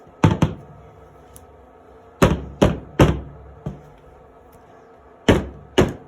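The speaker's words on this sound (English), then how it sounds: "It's probably loud when I pound it down there." Heavy wooden thuds from a soap mold pounded on a table, coming in uneven bursts of two or three hits with short pauses between.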